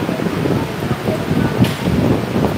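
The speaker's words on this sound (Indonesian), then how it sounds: "Gila, hujan angin gede banget." Heavy rain and strong wind during a thunderstorm in Guangzhou make a loud, continuous rushing roar with gusts buffeting the microphone close by.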